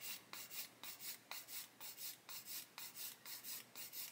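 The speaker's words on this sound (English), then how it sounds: "Let's clean off my sanding stick." Steady rhythmic rasping strokes, about three per second, as a sanding stick for model making is rubbed back and forth to clean it, faint and close.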